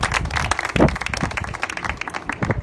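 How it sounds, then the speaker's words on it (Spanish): A gathering applauds at a community event handing over financial aid to a family: individual claps stand out in an uneven, moderately loud patter from a fairly small crowd, close by. "vamos a dar un aplauso"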